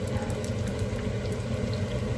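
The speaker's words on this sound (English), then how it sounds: "she's got her oil up to temperature, and now what she's doing is deep frying the Lumpia Dynamites now" Lumpia deep frying in hot oil, a steady crackling fizz and bubbling at close range with no talking.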